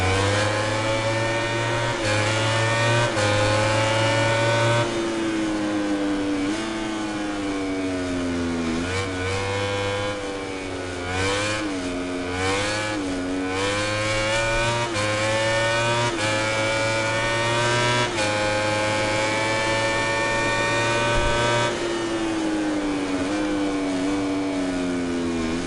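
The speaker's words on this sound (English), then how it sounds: "to be over the engine sounds of the bikes and stuff" Racing motorcycle engines from MotoGP 19 roar continuously and loudly, pitch climbing and dropping through gear shifts and corners, with several bikes layered together and no talk.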